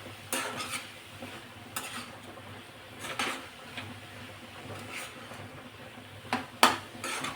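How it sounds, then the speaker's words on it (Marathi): Vegetable momo filling with soy sauce stirred and sautéed in a pan, a spoon scraping in quick irregular strokes with sharp clinks over a faint background sizzle, no talking. "आता हे छान असं मिक्स करून घेऊ अजून एक दोन मिनटं परतून घेऊ"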